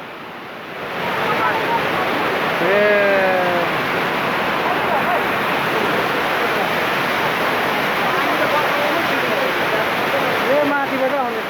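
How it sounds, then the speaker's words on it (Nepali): Water rushing down from above near the Halesi site in Dolakha, a loud, steady roar that fills the clip, with a voice speaking briefly over it. "माथिबाट आउँदैछ पानी त हो"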